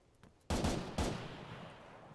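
Gunfire in the video game Arma 3 with the Breaking Point mod: two loud, close shots about half a second apart, each with a long booming decay.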